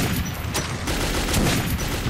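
Gunfire in the video game Metro 2033: a quick burst of three loud, sharp shots in close succession over a dense, noisy game soundscape, with no talk.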